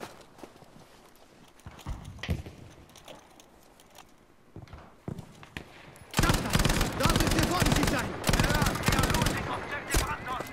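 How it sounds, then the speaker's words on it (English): Battlefield V gunfire: scattered single shots early on, then dense rapid automatic bursts crackle loudly through the second half, with voices speaking in between. "I saw a shot come from over here."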